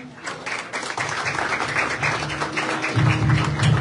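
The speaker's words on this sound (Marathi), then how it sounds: "टाळ्या वाजवा" A crowd at a student awards ceremony claps steadily for several seconds, a dense patter of applause, with a low droning sound joining near the end.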